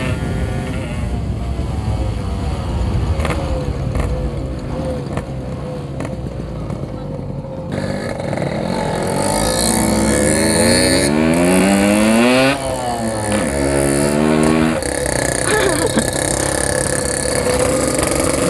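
Motorcycle ridden at full throttle on a night ride, engine roaring loud and close with rising and falling revs as gears shift, constant wind rush throughout and voices talking over it.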